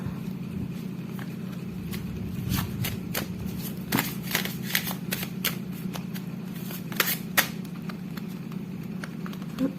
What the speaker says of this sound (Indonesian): shuffle kartu aku